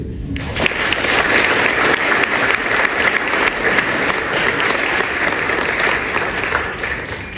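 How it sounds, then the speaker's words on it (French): An audience at a literary prize ceremony claps loudly and steadily, a dense, continuous wash of applause that holds at full strength for several seconds. "Je peux vous applaudir."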